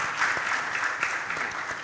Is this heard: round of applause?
yes